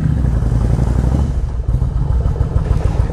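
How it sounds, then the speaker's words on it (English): Yamaha Virago motorcycle engine running steadily after a cold start without choke, a loud, close, continuous low rumble with no voices. "Sat all night long, completely cold start, didn't even choke it. Just fired right up."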